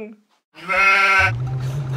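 In the video game Goat Simulator, a goat lets out one loud, close, drawn-out nasal bleat after a short silence, followed by a low rumble.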